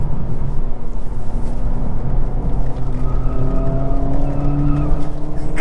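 Cabin sound of a 2024 Acura Integra Type S cornering over a bumpy bend, with a loud continuous engine drone and road rumble, steady and close, carrying faint tire noise.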